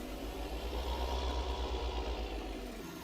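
A tractor engine in Farming Simulator 19 idles in a low, steady throb with a faint rhythmic knock, holding a constant moderate level and no talk over it.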